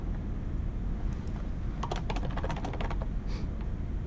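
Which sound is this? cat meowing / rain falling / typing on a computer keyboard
typing on a computer keyboard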